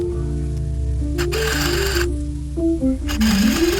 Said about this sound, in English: I'm using my handy dandy little handheld Singer sewing machine.